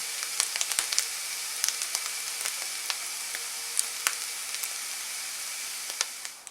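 Continuous hissing sizzle of oyster mushrooms frying in oil with garlic, with scattered small pops and crackles, fairly quiet and steady throughout.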